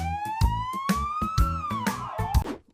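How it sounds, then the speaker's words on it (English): A police car siren wails in a single long rising and falling tone, loud and close, with a steady rhythmic pulsing beneath it and no talking. "This is a police car."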